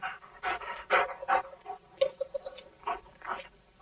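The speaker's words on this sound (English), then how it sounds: "The dogs." Dogs panting rapidly in close, rhythmic breathy bursts, heard nearby and fairly quiet with no voices over them.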